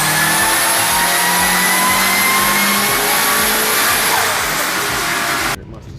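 A turbocharged Subaru at a car meet revs hard and loud nearby, the engine note rising and falling in quick pulses with turbo whistle on top, then cutting off abruptly near the end.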